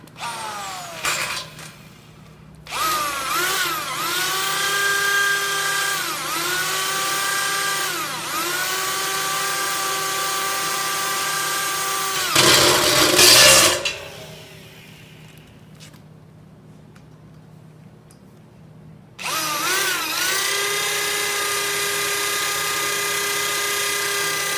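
A power drill drives TEKS 5 self-tapping screws into a pre-drilled base plate at low speed and high torque, in long whining runs broken by short pauses and a harsh burst as a screw seats, loud and close with no talk.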